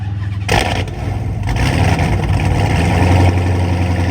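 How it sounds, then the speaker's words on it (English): A Dodge Hellcat of more than a thousand horsepower starts up with a loud burst and then settles into a deep, rumbling run that swells louder toward the end, close by with no talking. "A little start with the Hellcat."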